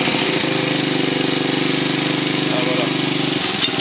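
A Yamaha SR 125 motorcycle engine with a loose, swaying chain is revved up from idle, holding a steady buzzing drone for several seconds before dropping back, loud and close, with faint speech under it.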